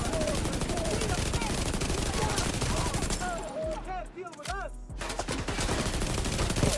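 Rapid assault rifle fire in a video game, dense repeated shots in long bursts, loud and close, with brief pauses and game effects, a voice speaking over it.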